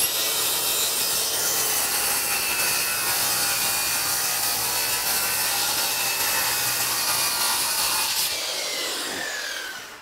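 A saw cutting an OSB board in half, a continuous harsh rasping stroke close and loud for about eight seconds, then fading out as the cut finishes.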